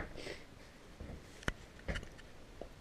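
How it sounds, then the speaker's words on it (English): Quiet, close sniffles from a person with hay fever, a few short nasal intakes spaced irregularly in a hushed room. "I have to excuse my sniffles again."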